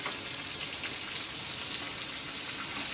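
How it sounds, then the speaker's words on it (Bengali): Spice paste with ginger, green chilli paste, chilli powder, cumin powder, sugar and tomatoes fries in a pan, giving a steady, close sizzle with a dense crackling hiss that holds even throughout, with no talk over it. "মশলাটাকে আগে ভালো মতন ভেজে নেব, আদার গন্ধটা চলে যাওয়া পর্যন্ত, আর টমেটোগুলোও নরম হবে।"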